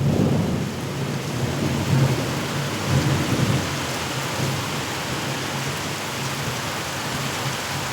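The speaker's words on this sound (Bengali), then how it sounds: "বাইরে বৃষ্টি শুরু হয়েছে" Heavy rain pours outside during a thunderstorm, a dense, steady hiss of rain with low, rolling rumbles of thunder swelling now and then, heard from indoors near an open window.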